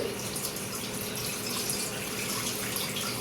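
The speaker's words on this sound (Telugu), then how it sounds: "గిన్నె తగినంత వాటర్ పోసుకోవాలి" Water pours steadily into a cooking pot in a continuous, even rush, with no voices over it.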